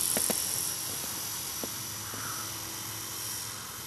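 A radio-controlled Art Tech Falcon 3D helicopter fitted with a new brushless motor flies nearby, its steady whining buzz holding level throughout with a few brief clicks at the start.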